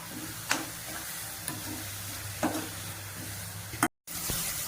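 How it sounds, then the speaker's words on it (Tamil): Ground tomato goes into sizzling biryani masala, giving a steady soft frying hiss with a few sharp taps and scrapes of a spoon. It stays quiet and close, with no voices and a brief cut to silence near the end. "இப்போ தக்காளி வந்து சேர்த்துக்கிறேன், அரைச்ச தக்காளி"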